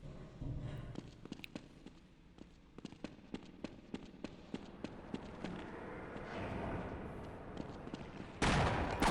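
Rapid gunfire from the Half-Life video game, a steady run of sharp repeated shots over a busy game soundscape, ending in a louder burst of noise.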